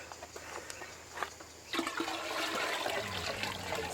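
Water pours from a container onto sea salt in a pot while transplanting a Burdekin plum, starting with faint drips and then becoming a steady, fairly loud gush for the rest of the clip.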